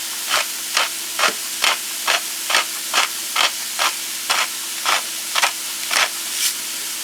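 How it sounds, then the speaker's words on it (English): A pepper mill cracks black pepper in a home kitchen, a dozen or so short gritty grinding bursts in a steady, even rhythm, close and fairly quiet with no talking. "I'm going to give this a few turns of cracked black pepper."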